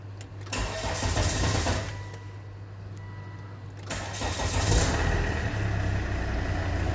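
A 2010 Volvo XC90 with a 2.4L D5 diesel engine starts up after an oil and filter change, its crank catching into a steady mid-pitched running rumble that swells again partway through, close and continuous with no talk.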